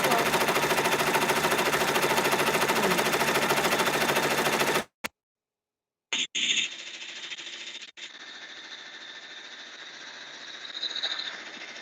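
An embroidery machine stitches out a rainbow appliqué on a new T-shirt, giving a loud, steady rapid needle chatter, then a brief silence, followed by quieter, more intermittent stitching runs.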